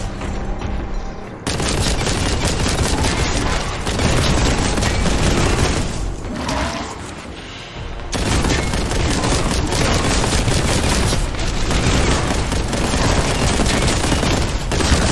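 Heavy sustained gunfire in the video game Warhammer 40K: Boltgun, loud continuous automatic volleys and booms, broken by short pauses around the two-, six- and eight-second marks before resuming.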